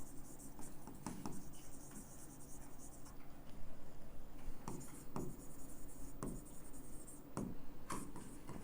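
Pen writing on paper at a desk, a steady close scratching with short strokes and taps as an accounting format is written out, over a faint background hum.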